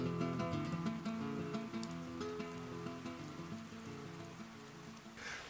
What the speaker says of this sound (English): It's pouring with rain out there, but we're dry in here.